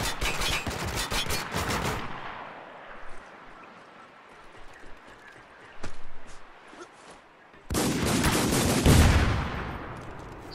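Sniper rifle fire in the multiplayer shooter game Spec Ops: The Line: a loud burst of shots at the start, a quieter lull with a single sharp crack in the middle, then another heavy, booming volley near the end.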